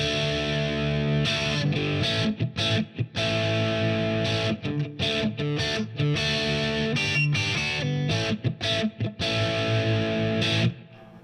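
Fender Deluxe Players Stratocaster with noiseless pickups in position 4, played through heavy distortion: a sustained, dense electric guitar riff with choppy stops, loud and close, with no talking.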